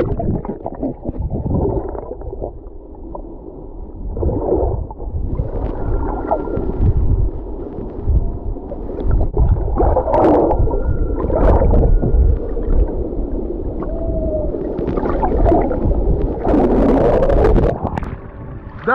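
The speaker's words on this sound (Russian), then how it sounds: "я услышал китов." Whale calls captured underwater on a GoPro: drawn-out tonal moans and whistles rise and fall over a steady rumble of water and wash, loud and continuous across the recording, with no talk.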